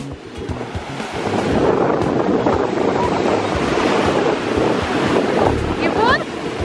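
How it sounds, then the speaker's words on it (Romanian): Sea waves roll and break on a beach in a constant loud wash of surf, with heavy wind buffeting the microphone throughout and no clear talking. "Da, valurile superbe!"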